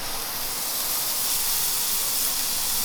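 A toasted sandwich with cheese, McDonald's nuggets and fries hisses steadily in a hot frying pan, a loud, continuous bright sizzle with no talk over it.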